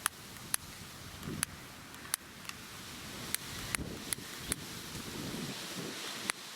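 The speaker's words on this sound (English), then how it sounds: "The wind definitely does not help." Strong wind gusts outdoors in a windstorm, a steady low rumble and buffeting against the microphone, broken by several sharp, isolated clicks scattered throughout.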